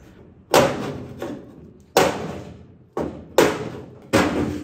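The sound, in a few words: hammering on car body panel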